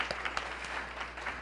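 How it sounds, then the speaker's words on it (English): Conference audience applauding a councilmember, a moderately quiet wash of clapping with a few sharper individual claps standing out over a low steady hum. "let's give Shannon a round of applause"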